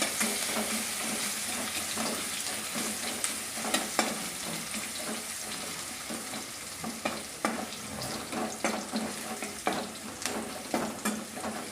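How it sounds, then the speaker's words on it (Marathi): Garlic sizzles steadily in hot oil for a vegetable curry of fresh green chickpeas, with a continuous crackling hiss and irregular scraping stirs of a spoon against the pan, close and moderately loud. "ते लसण छान असं तळून घ्यायचं"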